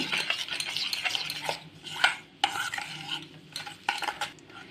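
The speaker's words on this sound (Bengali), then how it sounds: "এবারে এখানে আমি দিয়ে দেব নারকেলের গুঁড়ো এবারে এটা খুব ভালো করে মিশিয়ে নেব" Coconut powder being stirred into curd and sugar in a bowl for wheat-flour biscuits, with steady scraping and clinking of a spoon against the bowl and a few sharper knocks, close and alone.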